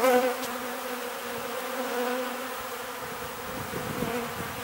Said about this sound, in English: Got bees in my hair.